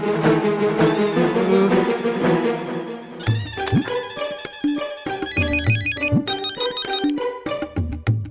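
A telephone ringtone plays as a bright, repeating electronic melody, loud and continuous through the whole stretch, with no talking over it.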